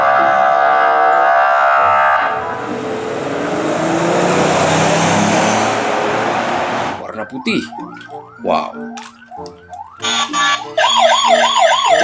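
A toy police car's electronic siren wails in warbling, rising-and-falling tones up close, with a voice talking excitedly around it and a hiss of other toy noise before the siren starts.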